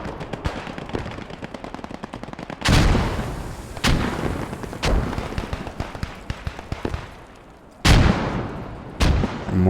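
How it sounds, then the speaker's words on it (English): Mortars and gunfire go off in a video game battle: sharp, loud explosive blasts break in at uneven intervals over a steady patter of rapid distant shots, all without any talk. "More mortars are falling."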